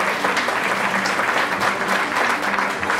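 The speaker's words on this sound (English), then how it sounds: "let's give her a round of applause to Sun Cruises Incorporated" Sustained crowd applause at an awards ceremony for a cruise company nominee, loud and dense with continuous clapping from many hands filling the whole stretch.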